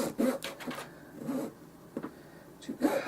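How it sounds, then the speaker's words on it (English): A fine-toothed razor saw cuts by hand through a small dollhouse miniature refrigerator part, with no miter box. Short, uneven rasping strokes come in bursts, close and fairly quiet, with brief pauses between them. "this is my razor saw, and normally I use this with my little miter box"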